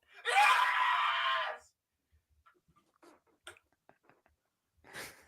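A person lets out one loud, drawn-out scream of celebration after the Miami Dolphins clinch a playoff spot, lasting over a second, followed by quiet breaths, small clicks and a short burst of voice near the end.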